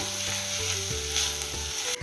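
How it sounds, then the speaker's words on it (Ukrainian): Steady sizzling of onions frying in butter in a pan, a soft continuous crackle with a faint low hum underneath, no voices. "До вершкового масла додаю цибулю. Цибулю трішки підсмажуємо."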